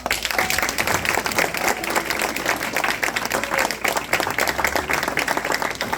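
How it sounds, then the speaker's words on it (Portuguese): A church congregation applauds steadily and loudly at a sermon, dense clapping filling the space for several seconds without a break. "só quem quer aplauda"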